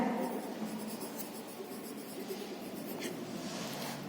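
A pen or marker scratches out a short word on a board or paper in a classroom maths lesson, a faint continuous scraping with a few brief strokes near the end.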